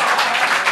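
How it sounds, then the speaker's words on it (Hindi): A short burst of audience applause at a poem recital, dense continuous clapping filling the brief moment with no voice over it. "जो तालियां बज रही हैं मेरे लिए"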